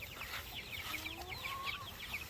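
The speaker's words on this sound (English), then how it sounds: "We got the big chickens, got the little chickens." Chickens clucking in a backyard coop, big hens and young birds together, a busy overlapping chorus of soft clucks and chirps close by at low volume with no talking.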